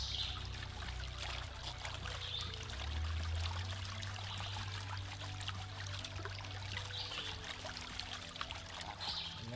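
Steady, soft trickling and washing of water over a gold pan as paydirt is panned outdoors, a continuous low-level flow with faint splashes and no talking.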